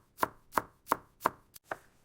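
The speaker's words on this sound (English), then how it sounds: "If the slices are too large, give them a quick chop." A knife chops sliced peppers on a cutting board in five or six crisp, evenly spaced strokes, close and clear with no talking.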